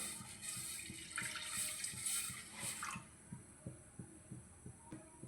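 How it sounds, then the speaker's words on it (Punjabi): Milk poured into a kadhai (wok) for shahi tukda: a steady, splashing liquid pour for about three seconds that then stops, leaving a soft, rhythmic low thumping beat on its own. "ਹੁਣ ਬਾਕੀ ਸਾਰਾ ਦੁੱਧ ਅਸੀਂ ਕੜਾਹੀ 'ਚ ਪਾਵਾਂਗੇ"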